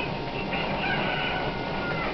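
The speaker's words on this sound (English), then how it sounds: "Get your ass over here, chicken." A chicken clucks in the game The Legend of Zelda: Ocarina of Time, a loud, continuous run of bird calls with no talk over it.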